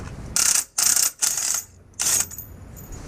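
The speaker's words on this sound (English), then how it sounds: "Now we're going to remove the 21." A ratchet loosening a 21 mm nut on a BMW F8X M2/M3/M4 subframe, four loud close bursts of rapid clicking separated by short pauses, with no talking.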